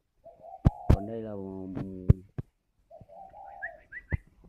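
White French pigeons coo in a low, throaty, rolling call, repeated twice at close range, while someone talks over them and sharp knocks and clicks break in between.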